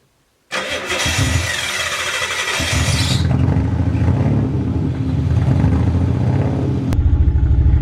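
A Nissan Cefiro A31 with a sick RB20 engine cranks and catches, then runs loudly in second gear with the car up on axle stands, a deep steady rumble with a sharp change near the end.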